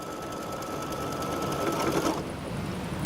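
Embroidery machine stitching a zippered bag in the hoop, a steady fast mechanical whir with tight repetitive needle clatter, close and continuous, with a slight shift in tone near the end.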